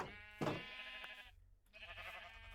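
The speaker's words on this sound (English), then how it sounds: "I hear you, sheep." A Minecraft sheep bleats in the game, giving a single nasal, wavering bleat followed by a second, quieter bleat, heard alone and fairly soft.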